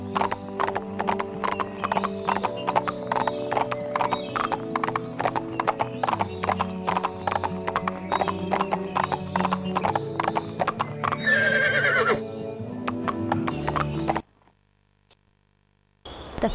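In the video game Barbie Horse Adventure, a horse's hooves clip-clop in a rapid steady rhythm over game music, with a whinny rising near the end before everything cuts to silence.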